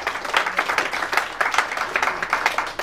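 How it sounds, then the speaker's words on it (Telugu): An audience applauds at a talk on money and wealth attraction, with a steady, moderately loud patter of many hands clapping in irregular bursts throughout, no voices on top. "చప్పట్లు కొట్టడానికి మొహమాటం ఏం లేదు"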